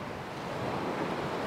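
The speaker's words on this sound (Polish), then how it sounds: "Atlantyk, na falę, na ocean" Atlantic Ocean waves and surf off the island of Madeira roll in a continuous wash, steady and moderately distant, with some wind buffeting the microphone.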